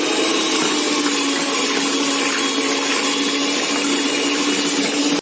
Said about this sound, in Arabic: ونبدا بقى ايه الخفق في البيض. هنخفق فيه كده لمده من 5 ل 7 دقايق